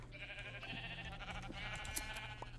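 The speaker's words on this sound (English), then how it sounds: "Hello, sheep." Sheep bleating in the Minecraft video game, a faint, wavering bleat lasting a couple of seconds over soft background game sounds.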